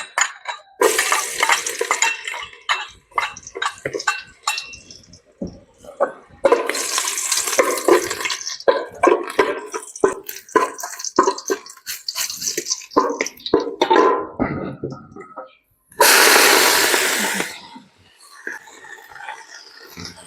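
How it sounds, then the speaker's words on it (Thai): Vegetables frying in hot oil in a home kitchen, loud sizzling bursts with stirring and clatter, the hiss rising and falling over twenty seconds, close, with a voice talking quietly in between. "น้ำมันเดือดละน้ำมันหอมเลยเอาเจียวพวกผักเจียว"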